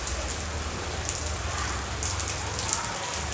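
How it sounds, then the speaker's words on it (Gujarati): Rain falls steadily and close by, a continuous dense patter of drops hitting surfaces at an even intensity. "આખો દિવસ વરસાદ નહોતો ને અત્યારે વરસાદ ચાલુ થઈ ગયો"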